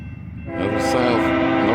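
A northbound autorack freight train's horn blares loud and near, swelling in over a rumbling rail background.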